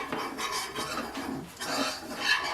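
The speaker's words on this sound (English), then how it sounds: "2 tablespoons of flour to this oil. I'm going to whisk that around" A whisk scrapes and rubs around a pot as flour is worked into oil for gravy in a lamb Irish stew, producing a soft, continuous rasping swirl close up.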